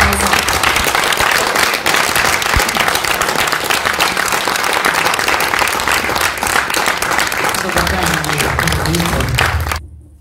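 Loud, sustained applause from a concert audience greeting the singer at a Liberation Day show in Kostolac, a dense unbroken roar of clapping that cuts off abruptly near the end.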